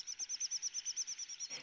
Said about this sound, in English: The day begins with the dawn chorus,